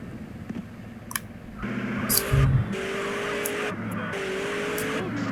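A fast car in the video game GTA San Andreas revs up into a steady, droning engine note with rising and falling pitch, joined by a few brief clicks and a short low thump, fairly quiet.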